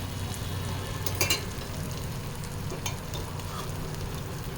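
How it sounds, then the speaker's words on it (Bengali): Fried potatoes go into sizzling, oil-glossed spice masala for a vegetarian aloo dum and are stirred, giving a steady close frying hiss with a brief clatter of spoon against pan partway through. "ভাজা আলুগুলো দিয়ে দিচ্ছি বন্ধুরা।"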